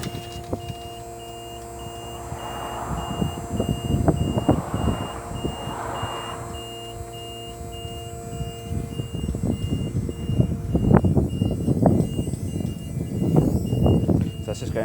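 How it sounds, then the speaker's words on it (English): Hydraulic legs and centre rams on an FC Bailey Jive Platinum 640 caravan retracting, a steady motor hum with repeated warning beeps, fairly close, with a few louder knocks and clunks toward the end. "That's just going through its final piece of putting the centre hydraulic rams up."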